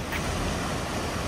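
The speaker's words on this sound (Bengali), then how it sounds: "এই ফেরিগুলো এত স্পিডে যায়, দেখুন কেমন বড় বড় ঢেউ আসছে" Fast ferries on Lake Como push waves that wash and surge in a steady, broad rush near the shore, mixed with wind buffeting the microphone, with no voices.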